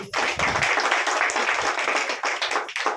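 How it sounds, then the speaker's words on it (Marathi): A gathering marking World Tribal Day in Phaltan claps loudly and continuously for about three seconds, a dense, close wall of many hands with no pauses. "सर्वांनी टाळ्या वाजवायच्या आहेत"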